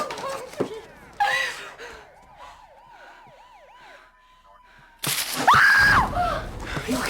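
A woman lets out a loud, long scream in a horror-comedy movie scene, following a stretch of wailing police siren in the background.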